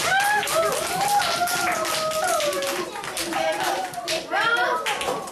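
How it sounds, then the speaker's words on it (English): Schoolchildren in a classroom clap for their classmates, a dense busy patter of many small hands with children's voices chattering and calling over it throughout. "Let's clap for your classmates."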